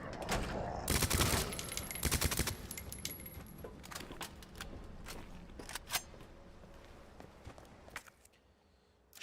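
Acid rounds fired in Resident Evil 2 Remake: a dense cluster of sharp, loud shots early on, then scattered metallic clicks and clatter that fade toward the end, with no voices.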